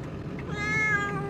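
A cat meows in a single drawn-out, rising and falling call, close and fairly loud, over a low background hum; no one speaks.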